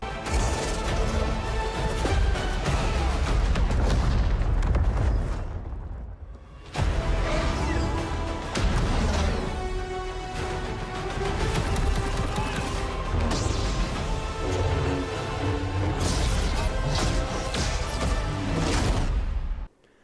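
Dense, loud trailer mix of crashing impacts, whooshes and booms as explosions destroy a palace or base in Star Wars Battlefront 2, sustained throughout with a brief drop near the middle and an abrupt cutoff at the end.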